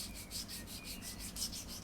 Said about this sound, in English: I'm just using a sanding stick just to sort of gradually shape it